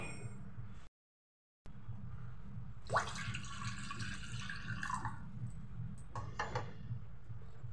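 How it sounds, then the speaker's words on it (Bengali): Two mugs of water are poured into a hot wok one after the other: a splashing, gurgling pour of about two seconds, then a shorter second splash, close by over a low background hum. "কড়াইটা গরম হয়ে যাতে আমি দিয়ে দেব এই মগেরই 2 মগ পানি"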